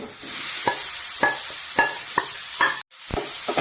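Potatoes and curry leaves frying in hot oil, a steady sizzle broken by repeated scraping stirs at a regular pace, close and fairly loud, with one brief drop to near silence.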